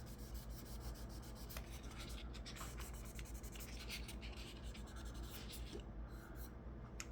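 Sandpaper working back and forth over a small area of a painted line, a steady, close dry rubbing and scratching that continues without pause and stands alone.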